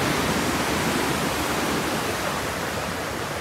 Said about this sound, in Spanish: Las mejores olas de California.